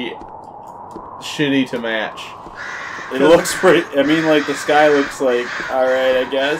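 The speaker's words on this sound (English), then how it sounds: "I don't know what that noise is. Like crows or something. Like cawing." Crows caw repeatedly in a video game, a series of loud harsh calls in quick bursts, mixed with a person talking over them.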